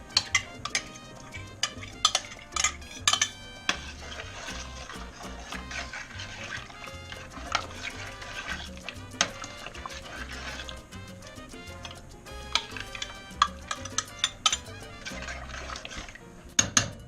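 Sauce going into a pan of homemade beef chili and being stirred, with repeated scraping and clinking of a utensil against the pan at an uneven rhythm, close up and without talk.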